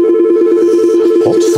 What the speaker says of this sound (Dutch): Godverdorie, alweer die telefoon.